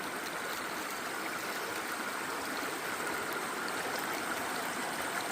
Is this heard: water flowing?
yes